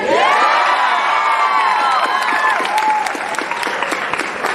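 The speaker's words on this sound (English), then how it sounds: "I know that crowd must be cheering and jonesing" Large convention crowd at a San Diego Comic-Con panel cheering, whooping and applauding, loud and sustained, with high shouts and screams over dense clapping.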